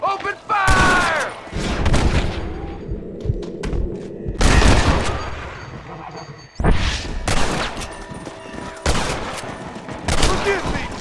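Gunfire in a Red Dead Redemption shootout: repeated loud shots and booming blasts in bursts, with short shouted voice lines in between.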